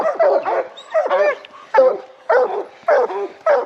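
Bear hounds tied on a lead outdoors bark in loud, close, repeated bursts with yips and whining between them, about six barking bouts in a row.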